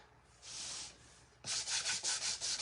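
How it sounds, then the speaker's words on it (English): A handheld sander works over wood, first a soft brief rub, then louder rhythmic back-and-forth strokes in quick succession, close and clear with no talking. "And then I'm going to take my sander"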